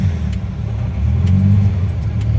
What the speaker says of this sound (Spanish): No sé si alcanzan a escuchar cómo se escucha el motor.